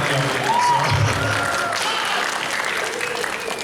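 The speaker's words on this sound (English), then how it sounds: "I was going to applaud that" A convention crowd breaks into sustained applause, thick overlapping clapping from many hands that holds steady and slowly eases, with a brief voice and murmurs mixed in.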